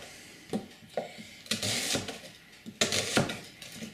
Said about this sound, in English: First of all, we're going to chop an onion.